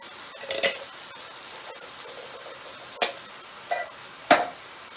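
Pasta bake ingredients, including tinned ones, being mixed in a dish: a handful of sharp clinks and scrapes spaced irregularly over a quiet, hissy background.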